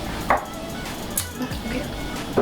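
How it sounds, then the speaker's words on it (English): A knife taps against a cutting board in a few sparse, uneven chops while ingredients are cut into large pieces for ackee and saltfish, moderately close in a quiet kitchen. "I'm not gonna chop them very small."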